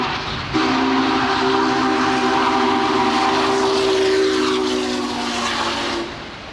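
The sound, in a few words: Union Pacific 844 steam locomotive running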